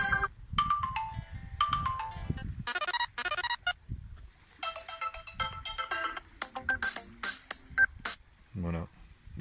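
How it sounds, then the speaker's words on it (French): Ringtones previewed on a Lenovo Moto Z2 Play phone: a string of short electronic melodies and chimes from the handset speaker, each stopping and switching to the next, with a brief voice between some of them. "Vous voyez, sonnerie du téléphone."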